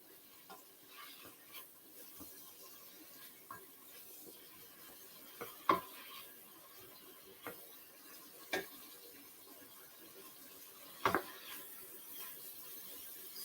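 Vegetables sizzle softly in a pan for a Moroccan vegetable stew, a low steady frying hiss broken by occasional scrapes and clicks of stirring, with no voices.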